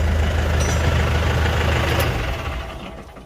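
An LS PS90 tractor engine idles with a steady low rumble, then winds down as it is switched off, the sound fading over the last second.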